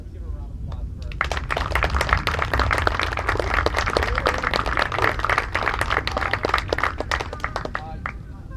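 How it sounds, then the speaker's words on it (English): Crowd applause for a boys' baseball team on senior night, dense steady clapping from many hands lasting several seconds outdoors, with a voice over it. "let's give a round of applause for our team"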